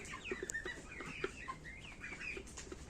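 Several broiler chicks cluck and murmur softly at close range, a busy scattering of short clucks and chirps over a quiet background.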